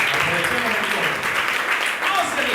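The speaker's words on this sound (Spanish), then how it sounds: "Denle un fuerte aplauso a Dios por él." A church congregation gives a strong round of applause to God during a Sunday service, a dense, steady clapping that continues throughout with some voices mixed in.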